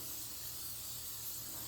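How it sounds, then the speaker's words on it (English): Cooking spray hissing steadily from a can onto a pan to coat it before cooking chicken, a continuous close airy spray lasting the whole moment with no talk. "So we're just going to take some cooking spray"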